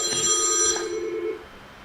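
An office telephone rings once with a bright, sustained electronic trill during a live morning broadcast, then fades into quiet room tone.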